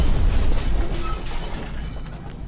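A low-budget film's car explosion: a loud, dense burst with rumbling low end that gradually decays into a noisy, crackling tail, with no talk over it.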